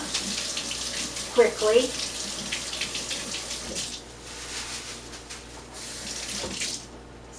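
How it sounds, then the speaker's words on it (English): A kitchen tap runs as hands are rinsed beneath it, a close splashing stream that shifts as the hands move, with a brief spoken word partway through. "I'm going to rinse my hand here"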